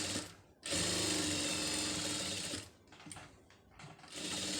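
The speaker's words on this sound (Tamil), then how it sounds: "இப்போ நான் வந்து அதில் வந்து தையல் தான் போட போகிறேன்" A sewing machine stitches canvas with a fast, steady mechanical whir and needle chatter, running loud and close, dropping briefly to a slower, fainter hum before speeding up again, with no voices.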